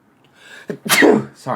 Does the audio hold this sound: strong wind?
no